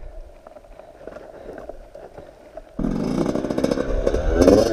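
Enduro motorcycle engine revving up, quiet rattling and clatter giving way to a sudden loud, rising engine roar close by that builds to the end.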